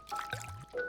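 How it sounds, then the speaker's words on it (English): In the Stardew Valley video game, a watering can is refilled at the well with a short, quiet splashing pour and a couple of bright tonal blips, all within about a second. "I know I'm out of water, that's why I'm over here at the well."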